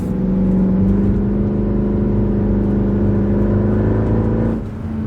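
A Mercedes C63 engine holds a steady rev around 3000 RPM, a loud, even droning hum with strong harmonics that drops off abruptly at the end.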